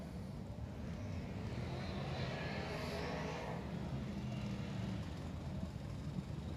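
A Lucas Oil late model race car circles the Tri-City track, its engine a fairly distant, continuous drone with a brief swell midway.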